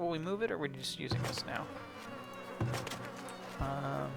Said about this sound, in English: that's the sound of flies.